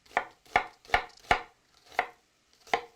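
Six crisp knife chops strike a cutting board in an uneven rhythm, close and clear, as 80 g of onion is sliced for pollock stew, with no voices.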